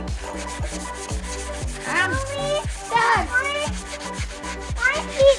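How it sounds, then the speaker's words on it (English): Rhythmic rubbing strokes of a child sanding wood with sandpaper scrape back and forth while children's voices chatter and squeal nearby. "Because he apparently likes sanding things."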